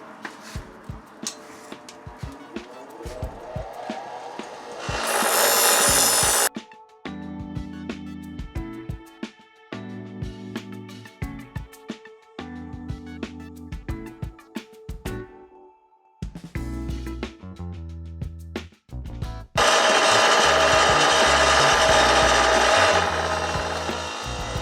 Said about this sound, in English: I'm going to clean it up on the grinder, these sharp edges.